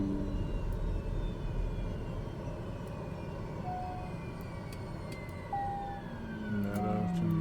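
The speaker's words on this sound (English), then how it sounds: "So we're going to shut the engines down." Aircraft engines winding down after landing, a low steady rumble with slowly falling whine tones heard from the cockpit, ending with a few brief chimes.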